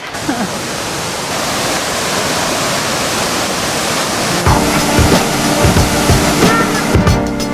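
A waterfall at a scenic outdoor spot gives a steady, close rushing roar throughout, with some extra splashing and clattering texture toward the end.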